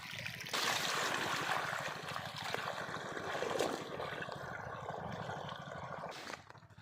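Irrigation water runs steadily in the open on a sunny farm plot, a continuous rushing flow with a trickling edge, fairly close and constant before easing off near the end.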